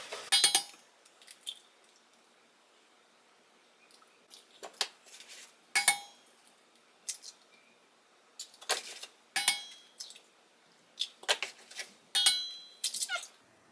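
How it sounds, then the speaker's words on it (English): Four eggs are cracked into hamantaschen dough in a home kitchen, a series of sharp, separate clinks and taps of shell and utensils against a bowl, close and crisp, spaced irregularly against quiet. "Now I'm gonna add in 4 eggs."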